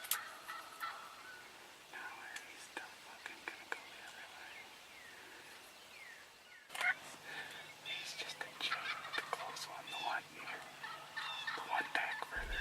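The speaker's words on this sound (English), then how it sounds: "Now we are surrounded by birds this morning, as you can tell." Wild turkeys gobble and call all around a bowhunting setup in an Illinois spring field, with repeated gobbles and clucks at varying distances, some close and loud, while a person whispers quietly in between.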